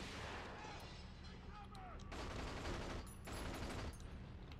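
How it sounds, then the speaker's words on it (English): Repeated bursts of gunfire crackle through a 007 Agent Under Fire firefight, with dense volleys separated by brief pauses and a busy background of game sound. "I was like, I'm just gonna keep burst firing until that guy dies."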